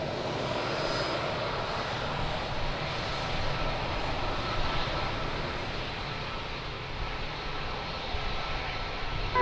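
Airliner rolling out after touchdown at Lisbon Airport, a steady broadband roar of engine and reverse-thrust noise that holds loud and constant without pause, with no talk over it.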